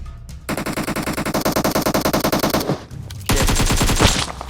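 Automatic weapon fire in the mobile battle-royale game PUBG Mobile: rapid, loud bursts of shots in a steady rhythm, a short pause, then another dense burst.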